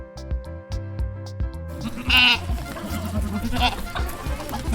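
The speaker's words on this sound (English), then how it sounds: "G is for goat." A goat bleats in the second half, heard over a bouncy children's music track with steady beats and a melody.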